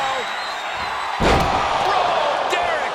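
A heavy slam midway through from repeated elbow strikes in WWE 2K25, with a sharper thud after, over constant arena crowd noise and commentary.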